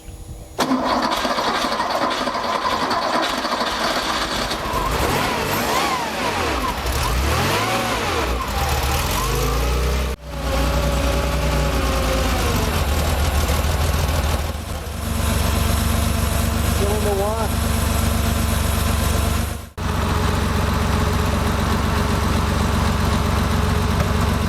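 A Porsche engine with C.I.S fuel injection starts and settles into a fast, steady high idle, with a few brief revs and tonal whines over the running motor.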